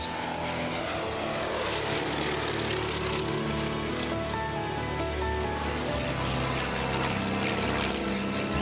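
A steady, broadband drone from a vintage 1920s–30s propeller aeroplane at a grass airfield, continuous and fairly loud throughout, with a rushing, wind-like roar and no voices.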